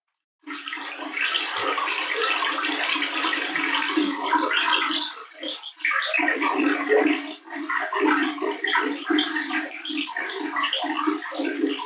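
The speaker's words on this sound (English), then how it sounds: "And then I show a small video clip of the cave water stream." Running water from a cave stream plays back as a continuous rushing, splashing wash with brief dips in level, probably heard through a speaker in a room.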